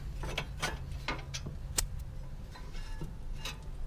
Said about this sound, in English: we take these two 16mm bolts that hold caliper bracket onto the wheel knuckle